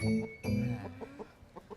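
Chickens cluck close by in a burst of loud, throaty calls, then a string of short, quieter clucks in an uneven rhythm, with no speech over them.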